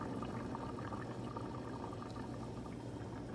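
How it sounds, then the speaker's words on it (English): Mexican rice simmers in a covered pot, a faint, steady low bubbling and gentle liquid burble with no voices. "I'm going to bring the temperature down just to where it's a simmer"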